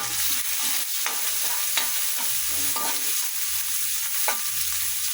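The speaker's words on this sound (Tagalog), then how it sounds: "Lagay na natin yung ating sibuyas." Onions sauté in a pan for a bitter gourd (ampalaya) dish, hissing with a constant bright sizzle while a utensil clinks and scrapes now and then.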